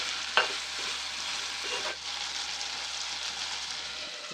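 Chopped tomato is stirred into a simmering cluster bean curry, a soft continuous sizzle with a sharp clink of the spoon near the start and gentle scraping movements throughout.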